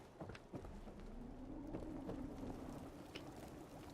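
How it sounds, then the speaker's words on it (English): Rain falling in the video game Fallout 4 near Diamond City, a soft steady patter with scattered drops and a low ambient hum, faint and continuous with no speech. "Of course it's raining."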